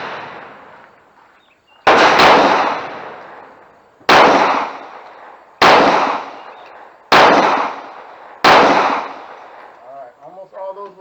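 Five sharp handgun shots fired at a target during one-on-one firearms training, evenly spaced about one and a half seconds apart, loud and close, each with a short decaying ring, followed by brief faint sounds at the end.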